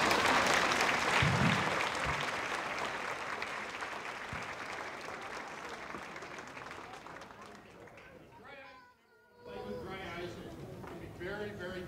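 An audience at the Invent Idaho 2015 awards ceremony applauds loudly and steadily for several seconds. The clapping tapers off and a voice begins speaking near the end.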